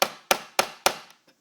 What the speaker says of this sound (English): I want to take this chisel and I want to remove, we can see where the latch is rubbing